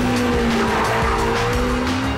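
An Ariel Atom car corners hard with a loud, sustained tire squeal over a steady high engine note, close and continuous throughout.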